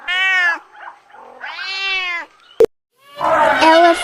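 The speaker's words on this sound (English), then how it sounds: "Rooster, rooster. Cat," A cat meows several times close up: drawn-out, wavering cries with short pauses between them, ending in a louder, harsher yowl.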